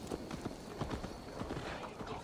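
Horse hooves clip-clop in steady rhythm in Assassin's Creed Valhalla, a continuous trotting patter close by under ambient game sound, with a person talking over it.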